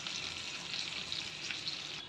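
Leftover rice and meat khichuri ingredients fry in oil in a wok, a close, steady crackling sizzle with faint stirring and no talk.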